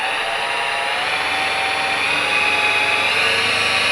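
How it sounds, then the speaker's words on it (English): A Harvey Turbo T-40 lathe motor runs with a close, continuous broadband whine that holds steady throughout, with no voices. "It has instant power, so you can see how fast and how it's fast start and fast stop"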